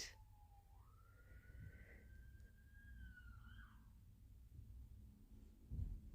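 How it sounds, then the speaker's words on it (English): A faint siren wails outside, one long rising then steady tone drifting in from a distance over a low indoor rumble, with a soft thump near the end. "You can hear a siren outside."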